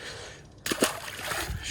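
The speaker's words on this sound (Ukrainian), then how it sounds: "Дивіться, бульк" A pike splashes suddenly in river water, a short sharp burst followed by sloshing, close by at a riverside fishing spot on the Styr in rough weather.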